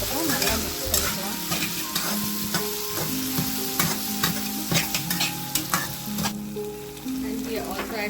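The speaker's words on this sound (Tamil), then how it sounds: "எல்லா சாஸும் ஆட் பண்ணதுக்கப்புறம் நல்லா மிக்ஸ் பண்ணிக்கலாம்." Chili paneer being stirred with sauces in a hot pan, with steady sizzling and frying and a string of sharp scraping and clanking stirs throughout, close and alone.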